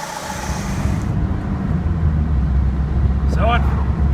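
A 1989 Ford Escort engine runs steadily from inside the car on a test drive, a loud continuous low rumble with road noise throughout, and a brief high whine near the end.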